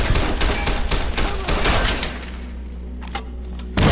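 Rapid gunfire in the game Fallout New Vegas, a dense stream of loud shots and impacts for about two seconds, then thinning to a few scattered bursts before another loud burst at the end.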